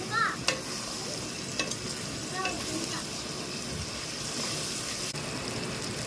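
Ginger and onion paste fries in a pan for gongura chicken, giving a steady close sizzle and frying hiss with occasional stirring clicks and scrapes, alone and fairly loud throughout.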